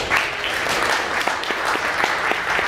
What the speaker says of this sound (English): let's get a big round of applause for Hanno